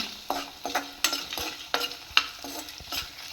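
Green chillies stirred in a hot pan for beetroot chutney, a series of sharp scraping strokes at a steady rhythm over a soft frying hiss.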